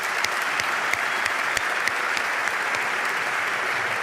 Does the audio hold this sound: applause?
yes